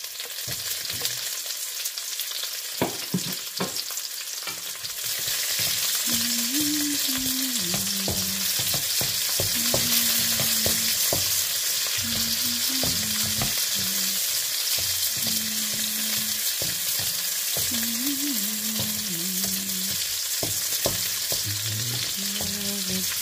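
Onions frying in a pan for pancit bihon, a steady broadband sizzle with stirring scrapes and clinks, loud and continuous throughout, with a faint tonal hum running underneath.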